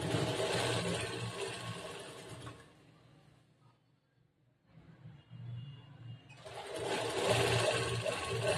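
Sewing machine running in steady bursts while stitching the folded hem of a churidar top, loud and continuous, pausing for a couple of seconds in the middle before resuming at full speed; no talk.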